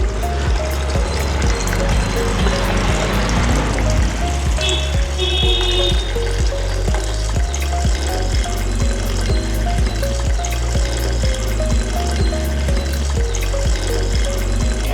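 Water pours loudly and steadily into a metal pot for cooking rice, a continuous gushing splash close by with a faint clatter partway through.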